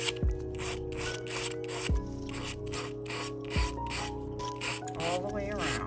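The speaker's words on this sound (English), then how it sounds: "take our sandpaper, and you can do this before if you want to, but we're just going to sand the edge." Sandpaper rubbed against the edge of a resin shaker piece, giving close, rhythmic rasping strokes repeated in a steady back-and-forth pattern.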